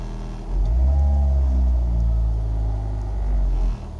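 Renault Scenic II engine with a slight vibration, heard from inside the car: a steady low idling rumble, moderately quiet, with a soft swell in the middle, and no talk.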